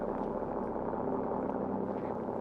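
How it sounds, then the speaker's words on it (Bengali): Engine drone from a car in a mobile driving video game, a steady, even hum with no revving or gear changes, heard alone at moderate level. "ইঞ্জিনের সাউন্ডটা জাস্ট একবার শোনো তোমরা গাইস"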